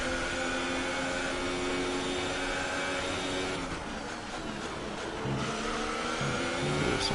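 Formula 1 race car engine in F1 2018 screaming at high revs with dense harmonic whine, dropping sharply mid-way as the car brakes late into a corner, then climbing again on exit; loud and continuous, no talk.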